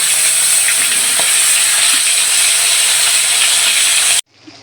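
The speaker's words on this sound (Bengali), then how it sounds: "আমি মাছ ভাজা বসা দিলাম।" Silver carp fish frying in hot oil, a loud, steady close-up sizzle and hiss with occasional pops that runs continuously for about four seconds before cutting off abruptly.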